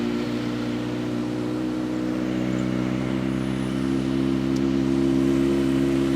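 Engine idling steadily close by on a vehicle fitted with a Powertronic unit and a BiPro racing radiator, a smooth continuous hum with no revving and no voices.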